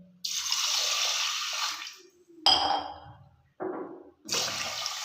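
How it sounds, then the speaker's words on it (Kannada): Water is poured in bursts over mixed legume seeds in a pressure cooker, a loud gushing splash followed by shorter, choppier pours with brief gaps between them. "ಕಾಳು ತೊಳೆಯುವಷ್ಟು ನೀರು ಹಾಕ್ಕೊಳ್ಳೋಣ."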